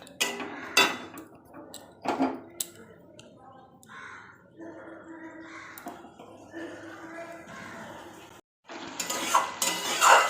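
Spice paste (masala) being stirred and fried in a pan, with a spoon scraping and clinking against the metal over a soft sizzle, in irregular bursts with a short pause near the end.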